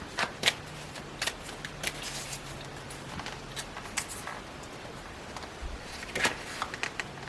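Tarot cards are shuffled and drawn in a quiet room, producing soft, scattered riffles, slides and light taps spread across the stretch with no talking.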